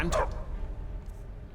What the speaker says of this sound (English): Don't mind the dogs. They get anxious when they haven't dinner.